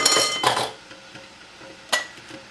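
Glass canning jars clink against one another inside a pressure-canning pot as chicken is being canned: a cluster of bright, close knocks, a pause, then one more sharp clink, with no voices.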